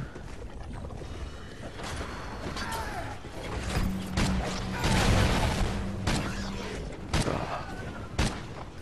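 Automated turrets firing in a shooter video game, with bursts of gunfire and mechanical clanks building through a busy stretch of in-game action and sharp shots standing out near the end.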